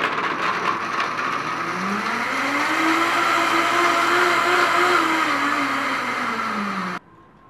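A high-speed blender grinds raw almonds into cashew queso, a loud steady whirring roar whose motor pitch rises and then falls back before cutting off abruptly.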